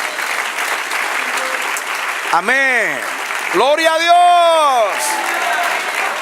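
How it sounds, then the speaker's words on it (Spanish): A church congregation applauds during a sermon, a steady wash of clapping that carries on while a voice calls out loudly over it. "Dale otro aplauso al Señor."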